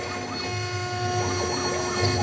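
CNC router with a drill-like bit cutting speaker-cabinet panels gives off a sustained high whine with steady tonal hum and wavering motor pitch, close and continuous without speech.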